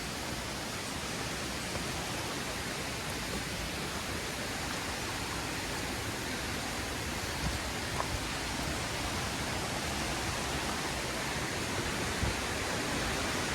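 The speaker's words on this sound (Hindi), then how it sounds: "मैं सोच रही थी यही झरना है" Neer waterfall near Rishikesh, a constant broad roar of rushing water with no pauses, steady and fairly loud, with no voices over it.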